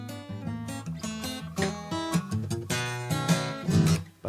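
Twelve-bar blues played with a shuffle rhythm, a swung, lopsided groove on what sounds like a full band or backing track, steady and moderately loud, running alone without talk for a few seconds.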